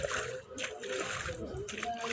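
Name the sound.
hoeing wet paddy field soil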